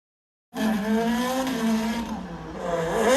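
A Hot Wheels toy ice cream van rolls fast down a plastic track. Its plastic wheels whir as a steady rising hum with a faint scraping edge that starts abruptly and carries on alone.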